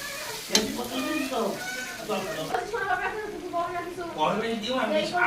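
Ginger, garlic and green chili paste fries in hot oil with a soft, steady sizzle that stays mostly beneath a person talking throughout.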